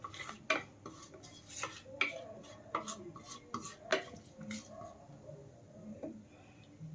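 Spatula scraping and clinking in a pan while frying chillies as a tempering spice for vegetarian ghugni, with irregular metallic taps and scrapes up close over a low background hum.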